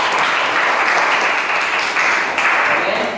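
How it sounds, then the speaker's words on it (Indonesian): Classroom applause from students, a loud, dense, steady wash of clapping hands held for the whole stretch, close and without pauses. "Tepuk tangan lagi."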